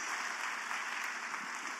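Audience applause welcoming first-time visitors at a church service, a steady wash of clapping filling the room throughout, loud and continuous with no voices on top.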